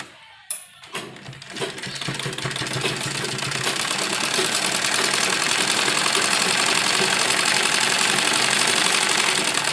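A sewing machine stitches a kurti seam in a steady, rapid mechanical whir. A few soft clicks and taps come first, then the machine runs continuously at near-constant loudness.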